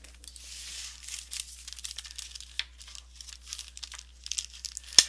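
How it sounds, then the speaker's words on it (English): Paper bag pages being creased with a bone folder for a small bound booklet, heard as soft, continuous crinkling and scraping strokes of paper, close and quiet, with a sharper crackle at the very end. "I'm going to get my bone folder and crease it with the bone folder"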